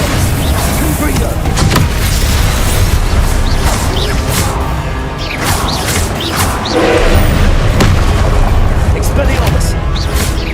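Spell explosions and magical combat effects from the game Hogwarts Legacy, dense booming blasts layered continuously with a voice calling out spells.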